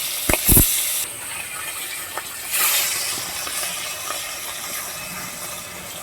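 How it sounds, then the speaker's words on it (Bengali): Hilsa fish lowered into hot oil in a wok gives a sudden loud splash and then a steady hissing sizzle that flares up again midway and continues alone. "কড়াটা গরম হয়েছে তেলটা দিয়ে দিচ্ছি মাছটা আমি ছেড়ে দিচ্ছি"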